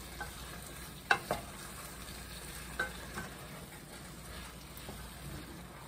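Chicken with bell pepper is stirred in a pan over a faint, constant sizzle, with a few soft scraping knocks of the utensil standing out at irregular moments.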